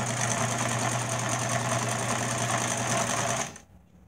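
A Singer 306K sewing machine stitches zigzag at its widest width, a loud steady motor whir with rapid needle chatter close by, stopping abruptly near the end.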